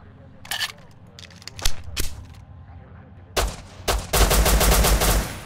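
Video game gunfire from Rust comes in scattered single shots, then a burst of rapid automatic fire near the end, sharp and close over faint background ambience.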